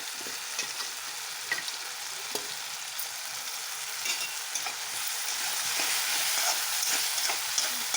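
Soaked chana dal frying in a hot pan, a continuous hiss of sizzling oil with occasional soft stirring taps, growing slightly louder toward the end.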